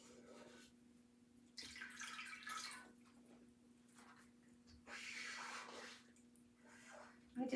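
A paper cutout is swished and washed in a shallow pan of water, with soft intermittent splashing and trickling over a steady low hum.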